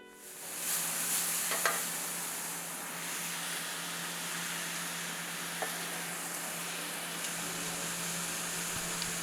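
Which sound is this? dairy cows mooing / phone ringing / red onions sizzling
red onions sizzling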